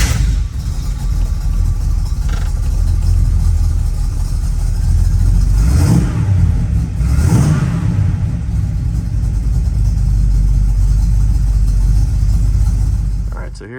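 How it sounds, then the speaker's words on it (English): A 1968 Pontiac Firebird fitted with a TREMEC TKO 500 five-speed rumbles loudly at a steady idle, with a couple of short rising revs partway through, close by and dominating throughout. "Let's go ahead and fire this car up and hear it before I pull it up on the rack."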